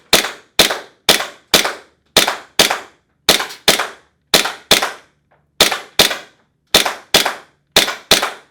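A Tokyo Marui M9 gas airsoft pistol fires 0.2 gram BBs at a target, giving about fifteen sharp, snappy pops in quick pairs and short runs, loud and close with no talk.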